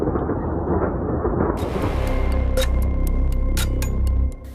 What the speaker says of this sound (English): Heavy shelling.